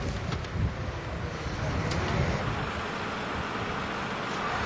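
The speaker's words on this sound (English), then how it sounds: "Simply cable suspended, and we're up and pumping." A Toyo 20-horsepower submersible slurry pump hangs from a cable in a construction-site foundation pit, pumping thick sludge. It gives a steady, dense, broadband roar that stays at an even level throughout.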